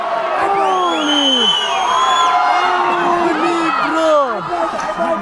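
Spectators at a fight roar and cheer, with high whoops and shouted calls layered over a dense, loud, unbroken crowd noise.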